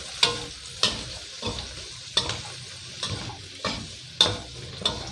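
Fish balls stir-fried with curry powder in a hot pan: loud, repeated spatula scrapes and clanks at an uneven rhythm over a continuous sizzle, close by and without talk.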